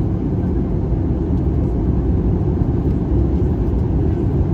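Inside the cabin of a Citilink Airbus A320 descending to land at Soekarno-Hatta International Airport, Jakarta, a steady low rumble and broad hiss fill the space, even and unbroken throughout.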